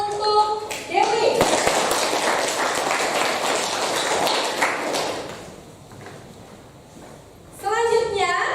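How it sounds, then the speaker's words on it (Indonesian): Schoolchildren clap together in a classroom, a burst of applause lasting several seconds between stretches of a teacher's speech at the start and end. "Berikan tepuk tangan untuk Dewi."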